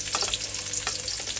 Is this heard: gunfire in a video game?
no